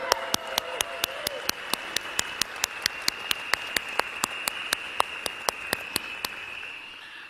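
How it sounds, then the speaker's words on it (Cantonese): Audience claps at a leadership training event in Malaysia, sharp regular hand claps at a steady beat over a faint hum and a brief low voice early on, fairly close and even throughout. "所以我哋應該要俾個掌聲。"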